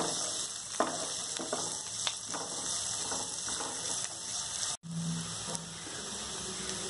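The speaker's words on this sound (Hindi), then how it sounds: "और फ्रेंच बीन डालूंगी और इसे थोड़ा सा मैं एक दो मिनट भून लूंगी ताकि इसका कच्चापन निकल जाए" French beans and carrots being sautéed in a pan, a continuous sizzling and frying hiss with occasional clinks and scrapes of stirring, fairly loud and steady with no talking.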